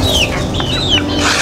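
Chickens clucking nearby in short repeated calls over a steady low background hum, at an abandoned fishpond.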